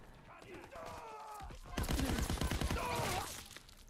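Rapid bursts of gunfire from the video game Call of Duty: WW2 crackle at moderate volume, with a denser stretch of shots in the middle and voices talking around them.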